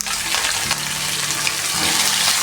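Shallots, garlic, green chili and curry leaves frying with browned grated coconut: a continuous loud, close hiss with a couple of soft stirring movements.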